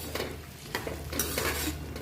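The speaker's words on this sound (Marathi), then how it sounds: "मिरच्या सगळं व्यवस्थित फ्राय झालं की आपण पुन्हा एकदा याच्यात डाळ्या, थोडंसं दाणे खोबरं असं टाकणार आहोत" Chivda tempering of dal, peanuts and coconut being stirred in a hot pan, a spoon scraping in steady strokes over a soft sizzle of frying, close and alone with no talk.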